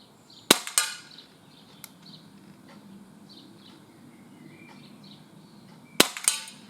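Two sharp, loud cracks from a Umarex S&W M&P45 2.0 CO2 air pistol fired double action outdoors at a can, several seconds apart, each with a brief metallic ring, and faint birdsong between.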